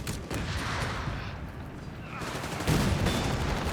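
Heavy gunfire from a World War II battle in Company of Heroes 3, with rifle volleys and fusillades crackling continuously through the short stretch and building louder near the end.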